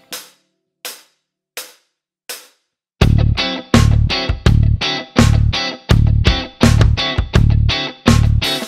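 Funk guitar strumming in a muted pattern: four faint scratchy strokes, then loud, percussive chord hits that open on the second note of each beat group, recurring in a steady rhythm, close and dry, with no voice.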